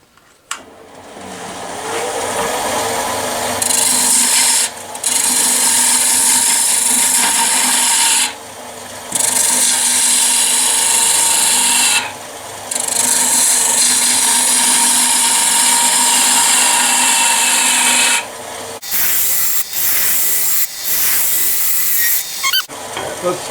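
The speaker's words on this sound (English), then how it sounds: "just rough turn the cylinder with my bowl gouge" A bowl gouge roughs a wooden cylinder on a woodturning lathe, a loud, steady hissing scrape that cuts out briefly several times as the tool lifts, then turns choppier near the end.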